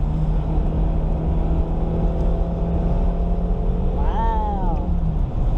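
A 1997 Toyota Celica ST with a five-speed manual downshifts on the road: a steady engine drone under road and wind noise, then a rising rev blip near the end as the gear drops.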